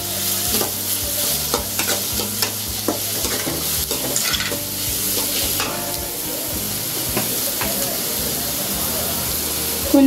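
Onions and chicken sizzle loudly in a hot pan while being stirred, with frequent scraping and clattering of the spoon over steady frying hiss.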